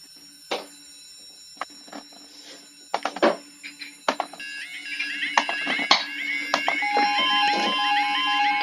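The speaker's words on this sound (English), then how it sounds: "Now, I'm about to set off the level crossing." A model level crossing alarm sets off amid scattered clicks and beeps, its ringing tones building into a dense, overlapping warble that grows steadily louder toward the end.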